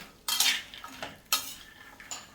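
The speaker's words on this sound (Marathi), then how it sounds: "आता मस्त हे आपल्याला परतून घ्यायचे।" Spoon scraping and clinking against a pan as cashews, pistachios and walnuts are stirred while roasting over low-to-medium heat, a few sharp rattling strokes close up.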